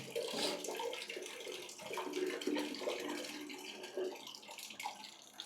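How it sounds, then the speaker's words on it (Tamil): Steady rushing water runs continuously from a tap over an action camera during a waterproofing test, with a broad hissing splash throughout and no voices. "தண்ணிக்குள்ளே போட்டுட்டு தண்ணியை திறந்து விடுவோமா?"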